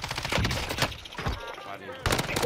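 Bursts of gunfire in Call of Duty: Warzone, several quick rattling volleys at close range, mixed with a voice talking over the shots.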